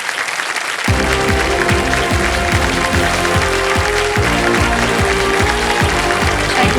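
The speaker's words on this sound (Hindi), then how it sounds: "तालियां बज जाए इनके लिए।" A game show studio audience applauds steadily for several seconds, with rhythmic music playing underneath after a brief quieter start.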